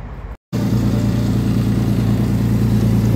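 A Chevy Trailblazer engine with a slight exhaust leak idles steadily and loudly right up close, a continuous low rumble after a brief cut near the start, with no voices.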